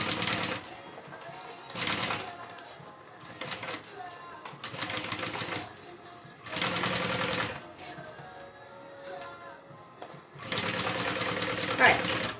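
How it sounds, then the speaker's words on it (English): A sewing machine stitches a backpack lining, running in several loud, rapid bursts separated by short pauses, close by with no talk over it. "Alright, lining is stitched on."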